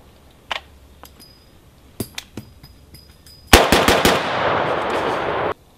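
Rifle fitted with a muzzle brake, blast shield removed, fired outdoors near foliage: a few sharp scattered shots, then a fast loud burst of cracking reports with a harsh roaring blast tail.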